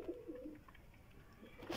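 Pigeons coo softly in a low, throaty murmur among farmyard birds and chickens feeding on grain, a few soft repeated calls over steady background noise with no talk.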